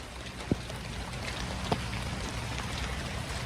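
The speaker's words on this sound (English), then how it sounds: "Starting to rain again" Light rain begins falling over a sealed-up house roof, a soft steady patter with a couple of sharper drops landing nearby, no voices present.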